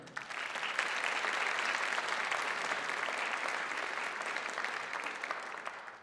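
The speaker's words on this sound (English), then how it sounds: "let's give a round of applause for all the amazing advisors that we get the pleasure to work with every day" An audience applauds advisors at a Pittsburg State University Order of Omega event, a steady wash of clapping from many hands that holds evenly for several seconds.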